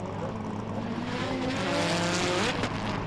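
A drift car with a small Nissan SR20 engine screams at high revs during a drift competition at Winton Motor Raceway, its rising engine note and tire squeal carrying steadily from a moderate distance, with no voices.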